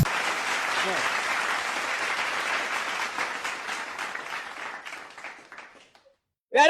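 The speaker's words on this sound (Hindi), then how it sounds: "आप लोग तालियों की गड़गड़ाहट के साथ।" Sustained audience applause fills a school felicitation ceremony honouring a Rajasthan board topper, steady for about five seconds, then thinning out and dying away into a brief silence before a voice begins at the very end.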